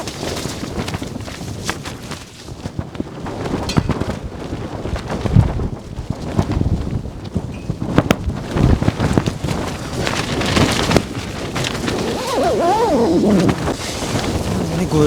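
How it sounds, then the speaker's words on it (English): Strong wind buffeting a tent in snow on a mountain, a loud continuous roar with flapping fabric gusts close to the microphone, and a voice speaking partway through. "Just a bit windy at the moment, as you can hear and probably see on the tent."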